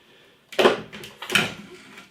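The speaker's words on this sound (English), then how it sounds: "So you get the doors open" Doors on a Philips Perfect Draft home beer tap machine swing open with two distinct clicking knocks about a second apart, close by in a quiet room.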